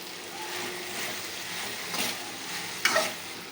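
Okra (bendakaya) with salt is stirred in a hot frying pan, a steady soft sizzle with a few scraping strokes and a sharp clink of the spoon near the end.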